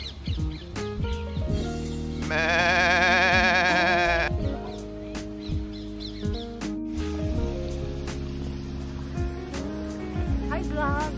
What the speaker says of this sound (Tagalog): Daming guys, kambing.